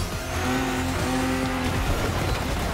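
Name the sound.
car braking hard with tires skidding, likely in a racing video game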